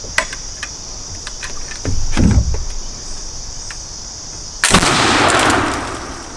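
Flintlock blunderbuss loaded with birdshot firing outdoors: a sharp, heavy blast near the end with a rolling tail, after light clicks and a brief thump, over steady insect chirring.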